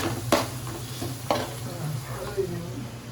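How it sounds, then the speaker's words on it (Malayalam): Turmeric powder being stirred in a hot cooking pan, with a soft, steady sizzle and a few sharp spoon scrapes and taps against the pan, close and fairly quiet. "അങ്ങോട്ട് ഇളക്കി കൊടുത്തു."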